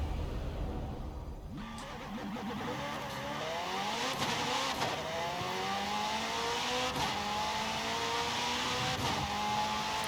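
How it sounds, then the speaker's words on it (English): The flat-plane crank V8 of a McLaren Senna in the video game Forza Horizon 5 starts up and revs hard, climbing smoothly through the gears in rising sweeps, loud and close with no talk. "let's listen to the Senna engine and how this thing sounds."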